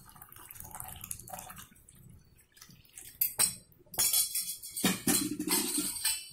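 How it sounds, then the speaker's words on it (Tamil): Water splashes and drips as half-boiled urad dal is strained in a kitchen, quiet trickling early on, then louder pouring bursts with light clinks of a metal vessel. "இப்போ அந்த உளுந்து எடுத்து நம்ம வடிகட்டிக்குவோம்."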